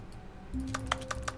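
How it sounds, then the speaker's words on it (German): A short burst of keyboard key clicks in The Stanley Parable, about five quick taps in a loose rhythm, close and moderately loud over a faint background hum. "Ich kann nur Tastengeräusche machen, wenn ich rechts klicke."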